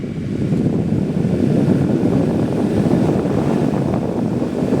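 A cheap, small high-RPM DC motor spins a homemade fan blade: a loud, steady rush of air buffets close to the microphone throughout, with no talking.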